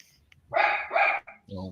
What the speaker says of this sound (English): Sorry, our dog is seeing things outside.